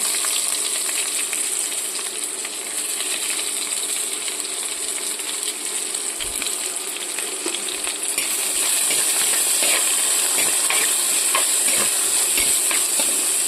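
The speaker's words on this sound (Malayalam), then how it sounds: "നന്നായിട്ട് വഴറ്റി കൊടുക്കാം." Onion and green chilli sauté in a hot pan for a jackfruit seed and drumstick leaf curry, a loud, steady sizzle and crackle with scattered metallic scrapes of stirring, growing brighter midway.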